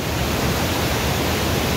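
Bhatta Falls, a waterfall in Uttarakhand, roars with a steady, dense rush of fast-flowing water, loud and unbroken throughout with no voices.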